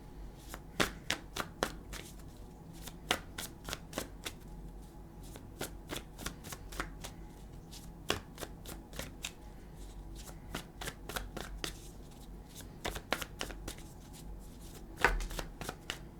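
Cards riffle and snap in quick repeated bursts, a close, crisp shuffling that keeps going with brief pauses between runs.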